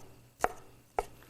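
A knife chops through stacked pineapple slices on a cutting board with two sharp, close, separate thuds about half a second apart, with quiet in between.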